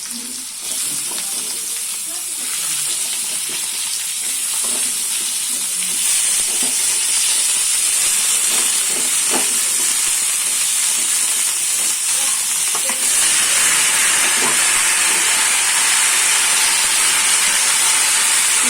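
Vegetables dropped into a hot pan, a loud steady sizzle and steaming hiss that swells and holds throughout, with faint stirring scrapes beneath.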